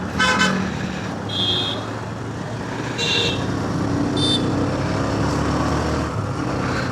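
Car horns honk repeatedly in dense road traffic, several short toots and a longer blast over a constant rumble of engines and passing vehicles, close and loud.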